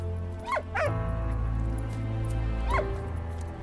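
A dog in the video game Valiant Hearts gives a few short yips and whimpering barks near the start and again later, over a steady low game music and ambience bed.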